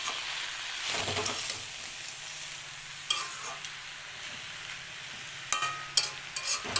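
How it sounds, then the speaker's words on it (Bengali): Spinach with lentil dumplings sizzles in a pan over low to medium flame, with steady frying hiss and several sharp scraping stirs of a spoon near the end. "এখন আমরা এটাকে লো টু মিডিয়াম আছে ফ্লেমে এটাকে ভালো করে শাকটাকে মজতে দেবো।"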